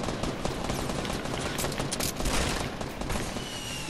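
Rapid video game gunfire in a shooter match, a dense, loud, continuous burst of overlapping shots and clatter filling the whole moment with no pauses.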